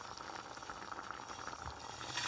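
Tapioca pearls boil in a pot, a steady, close bubbling with dense popping and no voices over it throughout.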